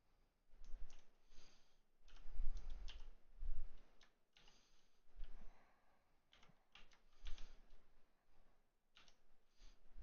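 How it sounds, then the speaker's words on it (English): A computer keyboard is typed on in quick, irregular bursts of soft clicks separated by short pauses, faint and close, with no voices. "I am typing so I can get this in here."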